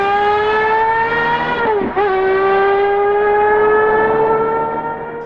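A Morgan car's engine revs hard and high at about 12,000 RPM, a loud sustained wail that dips briefly with a gear change before climbing again, with no talking.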